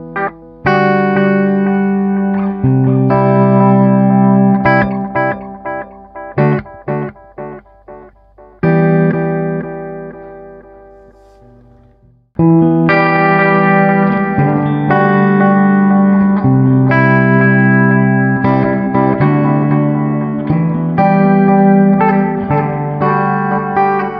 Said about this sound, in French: il y a comme une deuxième guitare qui joue. Ça, c'est ce qu'on a d'habitude dans les échos, mais avec une reverb derrière